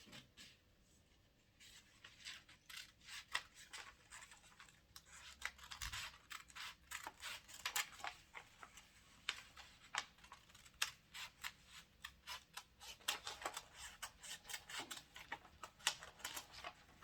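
Scissors cutting corset pattern pieces from paper, a quiet run of quick snips and crisp clicks in an irregular rhythm, close by.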